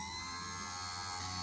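Electric chain saw sharpener, an ES002 tool, running on its own with a steady, quiet high-pitched motor whine and hum, faint and continuous with no talking.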